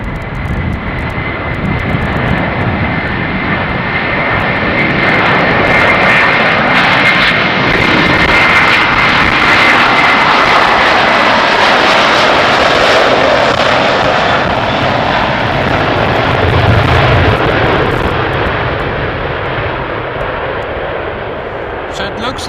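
KLM jet airliner at Schiphol Airport, engines roaring steadily for the whole stretch, swelling and holding loud with a broad rushing whine, while people talk faintly underneath.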